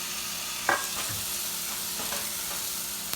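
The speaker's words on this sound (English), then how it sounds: "now I'm adding the chopped up tomatoes. And I'm gonna give it a good mix." Chopped tomatoes being stirred into masala for a fish curry, a brief scrape near the start over a steady close sizzle and hiss, no voices.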